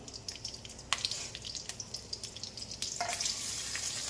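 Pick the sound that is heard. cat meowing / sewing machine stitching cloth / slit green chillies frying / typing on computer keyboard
slit green chillies frying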